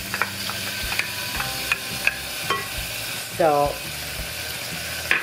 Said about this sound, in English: So we're going to put a little bit of olive oil in our saucepan. Okay, we're going to put the pancetta down.